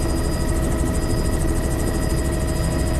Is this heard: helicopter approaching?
yes